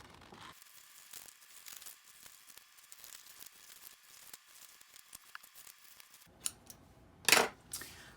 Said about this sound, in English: So let's get our scissors and let's get our unicorn cut out.